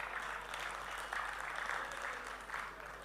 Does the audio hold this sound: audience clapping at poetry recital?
yes